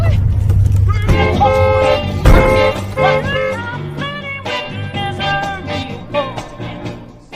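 A car horn honks repeatedly in short bursts, loud and close, over engine noise and an excited voice.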